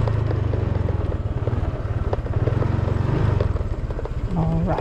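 Motorcycle engine idling with a steady low chugging rhythm beside a boat being readied, loud and close throughout, with people talking over it.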